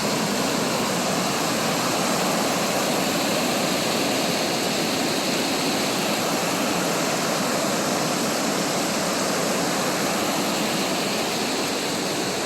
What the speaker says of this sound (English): This is the 4th falls, or 5th falls off the creek here.